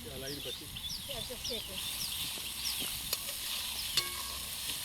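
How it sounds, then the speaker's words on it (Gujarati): Green chillies and capsicum roast in a pan for pav bhaji made without a tava, with a soft sizzle under scraping stirs and a couple of sharp clinks of a spoon against the pan. "કટિંગ કરેલા લીલા મરચાં અને કેપ્સિકમ મરચાં એડ કરીશું. થોડું શેકાવા દઈશું."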